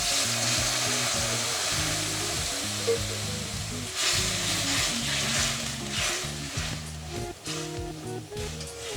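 Spiced dried fish curry sizzles loudly in a pan as water is poured in, a steady close hiss and bubbling with brief surges near the end.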